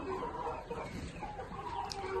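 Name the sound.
chickens clucking on a chicken farm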